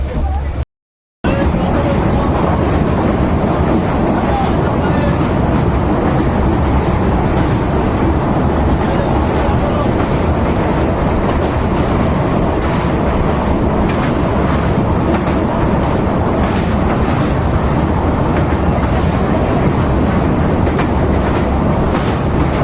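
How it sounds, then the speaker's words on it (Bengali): A passenger train pulling into Cuttack junction, heard from on board as a loud, continuous rumble with steady wheel clatter throughout, after a brief gap at the start. "দেখতে পাচ্ছেন আমাদের ট্রেন এসে ঢুকলে এই মুহূর্তে কটক জংশনে"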